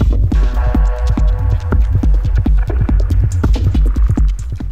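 A steady techno beat loop with a repeating kick drum pulse and a deep bass line underneath, loud and continuous, with no one speaking.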